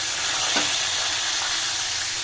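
Pieces of katla fish frying crisp in hot oil, a loud, dense, steady sizzle filling the whole stretch with one faint clink near the start.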